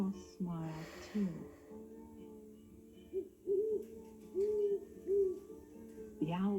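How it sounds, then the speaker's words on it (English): Owl hooting during a read-aloud of the children's story Owl Moon: soft, repeated tonal hoots come in a broken rhythm, mixed in with a speaking voice. "The owl's call came closer, from high up in the trees on the edge of the meadow."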